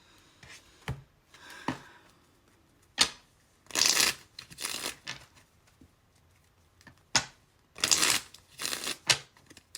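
A deck of reading cards is shuffled in two repeated rounds: soft taps and riffling bursts, close and fairly loud, with no talking.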